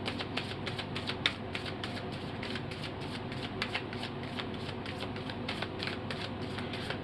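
Tarot cards being shuffled by hand, a steady run of quick soft riffling clicks and flutters, close and fairly quiet, with no talking.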